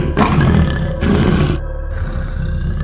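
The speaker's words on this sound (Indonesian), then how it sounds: "Suara harimau, tapi dari mana nih?" A loud, deep tiger roar fills the clip, sustained and rumbling, with a brief break and a second roar following close by.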